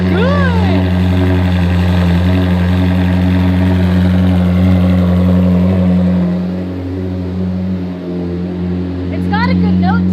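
A Ferrari fitted with an F1 exhaust, fresh off a cold start, holds a loud, steady idle with strong low drone, sweeping through a couple of quick revs at the outset and again near the end.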